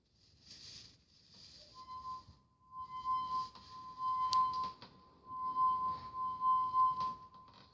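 A wet finger rubs the rim of a half-full cup of water, drawing out a thin, steady ringing tone that wavers in and out over faint friction noise, quiet and close.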